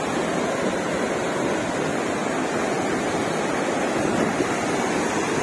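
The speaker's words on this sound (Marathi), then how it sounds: "पाण्याचा आवाज खूप येत असेल." Water overflows the dam at Vandri lake with a loud, steady roaring rush that fills the whole stretch without pause, close by and uninterrupted, with no voices.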